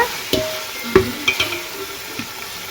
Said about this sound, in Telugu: ఆనియన్స్, కొత్తిమీర అవన్నీ ఇట్లా ఫ్రై కావాలి. అన్నీ ఆయిల్లో ఫ్రై అయ్యాక